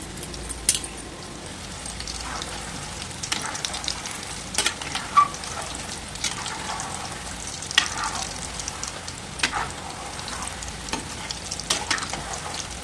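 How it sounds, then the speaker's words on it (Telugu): Sweet stuffed dumplings (poornam munjalu) fry steadily in a pan of oil, a continuous soft sizzle with occasional brief clinks and stirring sounds, no talking. "ఇలా మొత్తం తిప్పుకోండి. ఇలా మొత్తం వేయించుకోండి నిదానంగా."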